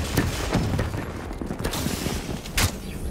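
Grenade blast in a Black Ops 3 firefight: a sharp, loud burst near the end stands out over continuous rumbling gunfire and battle noise, with earlier booming hits along the way.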